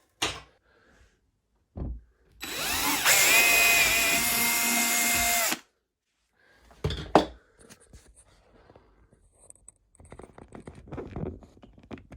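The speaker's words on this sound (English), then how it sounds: "my entire drill went whee and pulled" A power drill bores through a wall while building console shelves, catching on insulation: one loud sustained whining burst of about three seconds that cuts off abruptly, followed by scattered clunks and handling noises.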